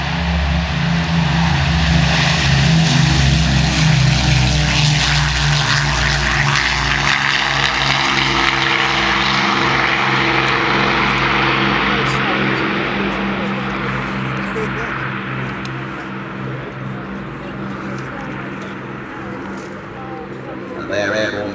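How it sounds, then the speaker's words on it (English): A Lancaster bomber's four propeller engines roar during takeoff at the Biggin Hill airshow, loud and droning at first and then slowly easing as the aircraft climbs away, with a commentator talking over it. "They're airborne barely halfway down the runway, gears up before the air."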